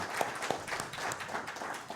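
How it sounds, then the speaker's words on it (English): An audience at a school board meeting claps at moderate volume, with a few sharper individual claps standing out from a soft, scattered patter. "Could I get a round of applause for the board for doing that?"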